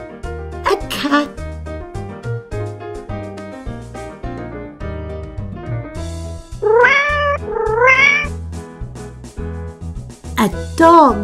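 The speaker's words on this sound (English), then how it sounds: "A cat." A cat meow sound effect from a Peppa Pig farm animals toy puzzle plays in a couple of drawn-out, rising cries over background music, with another short call at the end.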